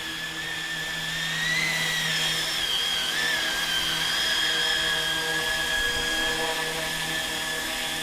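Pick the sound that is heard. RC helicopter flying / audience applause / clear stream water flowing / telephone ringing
RC helicopter flying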